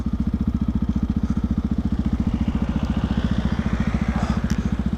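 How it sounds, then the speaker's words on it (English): A motorcycle idles roughly nearby, its steady low chugging pulse thumping evenly as the faulty engine struggles and threatens to cut out, with no voices. "The bike's still cutting out."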